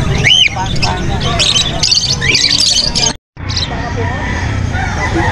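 Cockatiels squawking at a busy pet market, shrill calls and chirps over a loud crowd babble and people talking nearby, with a brief dropout near the end.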